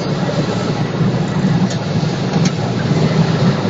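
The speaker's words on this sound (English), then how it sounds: "flat out acceleration in eco mode to 90 kilometers per hour" A car engine under full-throttle acceleration in eco mode up to 90 km/h, heard from inside as a steady, broad drone with road rumble, continuous and fairly loud with no talking.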